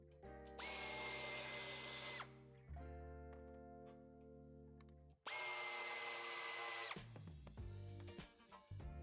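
A power drill runs in two sustained bursts with a brief pause between, backing out screws from the metal bumper reinforcement of a 2020 Škoda Enyaq during a tow hitch fitting, loud and close with no talk.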